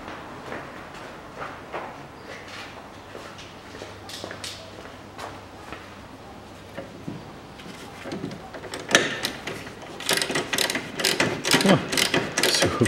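A socket wrench with a 15 mm socket ratchets close by, tightening a crushed nut on a front stabilizer link of a Hyundai Accent 1.5, with busy clicking that grows louder and denser toward the end.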